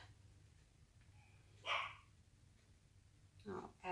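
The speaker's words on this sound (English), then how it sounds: "She's barking." A dog gives two short barks, a few seconds apart, muffled as if from another room, over a low steady hum.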